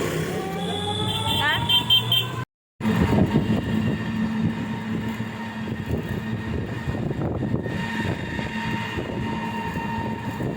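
A train rolls past a level-crossing gate in India, a loud, steady rumble of wheels and carriages lasting throughout, broken by a brief dropout, with voices talking over it.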